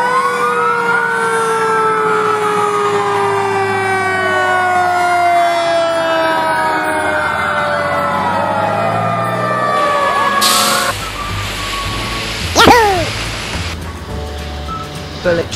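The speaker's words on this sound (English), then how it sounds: "Fire engine." A toy fire engine's electronic siren wails in long, loud sweeping tones, joined by rising and falling whoops and a sharp burst near the end, steady and close throughout.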